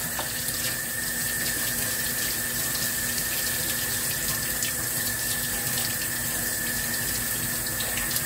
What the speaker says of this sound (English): Wash my hands one more time, y'all.